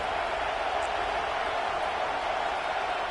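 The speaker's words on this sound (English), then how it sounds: "this crowd is fired up. Listen to this noise here." A college football stadium crowd at an Auburn vs LSU game makes a continuous, loud roar with no pauses over a few seconds.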